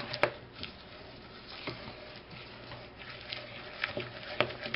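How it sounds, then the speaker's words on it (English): Cookie dough with oatmeal stirred in a bowl, a soft continuous pattering and scraping with occasional sharper taps of the utensil against the bowl, close but quiet. "now we're just going to stir and mix it up"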